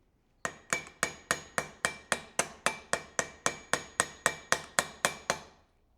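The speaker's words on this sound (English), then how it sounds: "I'll just hammer it and stretch it out with a hammer and dolly" Hammer strikes on sheet metal over a dolly, about seventeen sharp, evenly spaced ringing blows in steady rhythm, close and alone, each with a brief metallic decay, stretching a panel on a coachbuilding job.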